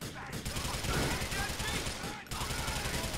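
Sustained automatic gunfire in a GTA The Lost and Damned shootout, loud and continuous rapid bursts with a brief break, filling the scene with heavy, close fire.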